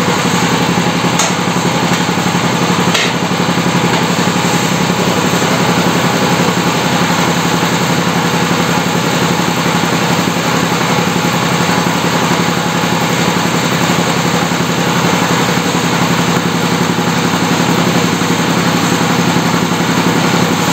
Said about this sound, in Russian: холостой ход